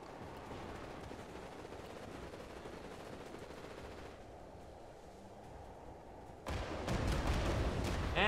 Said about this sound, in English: my gun's still firing